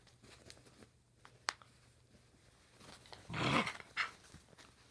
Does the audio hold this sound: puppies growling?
yes